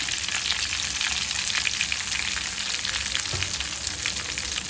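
Curry leaves and asafoetida sizzle steadily in hot oil, a close, even crackling hiss that carries on alone without pause, for tempering Tamil venn pongal.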